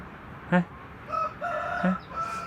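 A pet rooster that follows its owner around the garden crows nearby, a short sharp call followed by a longer drawn-out crow with a faint extra note at the end, clear over quiet background.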